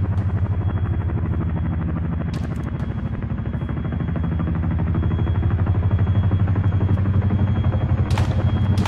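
A helicopter's rotor thumps rapidly and steadily throughout, a loud mechanical drone with a few sharp cracks near the end.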